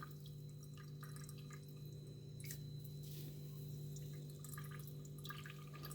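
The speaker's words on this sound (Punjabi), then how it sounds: "ਦੇਖੋ ਕਿੰਨਾ ਪਾਣੀ ਨਿਕਲਦਾ ਨਾ" Water draining from grated bottle gourd as it is pressed for kofta raita: faint, close dripping and trickling over a low steady hum, with no talking.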